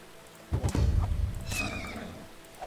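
Horse neighing in the survival strategy game Dawn of Man: a single loud, close whinny that rises, then trails off into softer snorting and breathy vocal tones, with no talking over it.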